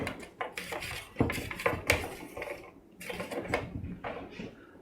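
Asparagus spears being spread out on a metal pan, a few close clatters and light knocks against the pan, irregular and brief, with no talking.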